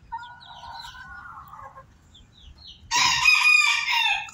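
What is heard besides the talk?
chickens, rooster crowing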